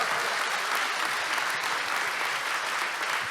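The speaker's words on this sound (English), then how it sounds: "Give them all a round of applause." Steady, dense round of audience applause, many hands clapping evenly throughout at close range with no talk over it.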